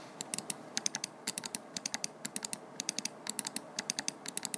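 A Razer Basilisk V3 X gaming mouse clicks in rapid bursts of two to four sharp, close ticks separated by short pauses, crisp and fairly quiet with no talk.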